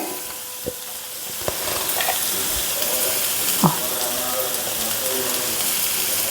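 A teaspoon of turmeric powder is stirred into a sizzling curry base for bitter gourd curry, soft steady frying hiss with a few sharp spoon knocks and scrapes against the pan, close and moderately quiet.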